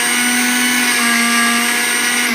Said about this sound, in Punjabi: ਹੁਣ ਇਹਨੂੰ ਆਪਾਂ ਇਸ ਤਰ੍ਹਾਂ ਗ੍ਰਾਈਂਡਰ ਦੇ ਉੱਤੇ ਗ੍ਰਾਈਂਡ ਕਰ ਲਵਾਂਗੇ।